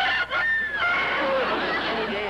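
A rooster crows faintly in the background of an indoor sitcom scene, its rising and falling call heard a couple of times under soft room noise and murmuring voices.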